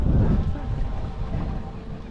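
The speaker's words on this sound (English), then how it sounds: "Well, it's kind of windy today" Wind buffets the microphone on a fishing boat anchored off the Texas coast, a loud low rumble strongest at the start that then gusts and churns steadily throughout.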